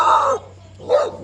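Dog on a neighborhood street giving two short, fairly loud barks close by, separated by a brief pause.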